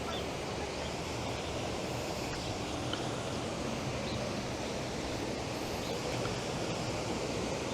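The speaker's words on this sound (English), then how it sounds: "There's a water wheel." Steady broadband rush of water at the water wheel on the Segura River at Rojales, Spain, a continuous even wash with no distinct beats, no voices.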